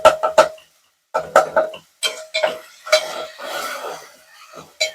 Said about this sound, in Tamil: நம்ம வந்து கிண்டி விட்டுக்கிட்டே இருக்கணும்.